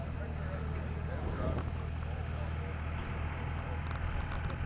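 An Allis-Chalmers garden pulling tractor with a V engine runs at an outdoor festival pull, a steady, dense low engine drone throughout with wind noise, fairly loud and constant.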